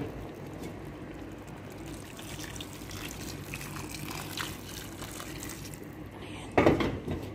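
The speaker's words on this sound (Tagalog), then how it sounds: "Mainit na tubig yung nilalagay ko guys." Hot water pours into a pot of chicken curry with vegetables to make broth, a soft steady liquid trickle with faint clinks of cookware, ending in a brief louder clatter near the close.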